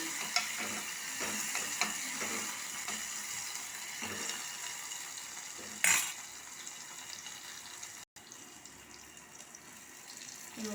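Tomato fries in oil in a pan while Maggi is being made for children, a soft steady sizzle with occasional stirring scrapes and a brief louder clatter midway, close and fairly quiet, with no voices.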